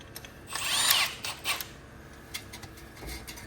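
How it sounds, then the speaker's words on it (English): A power drill notching aluminum for a golf cart glove box whines against the metal in a couple of short bursts, the first longer and louder, followed by lighter clinks and taps nearby. "I wonder if we can do it in the drill."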